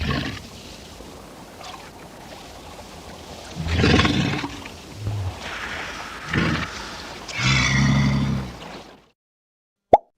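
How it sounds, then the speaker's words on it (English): A walrus gives several deep, loud, rough bellowing calls in separate bursts over a low ambient background, ending in silence and a short sharp tone. "Walrus."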